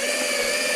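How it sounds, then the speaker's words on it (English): A power driver sinks a screw into garden fence wood without a pilot hole, a steady, close, high-pitched whirring hum lasting under a second. "And now we shall attach a screw through."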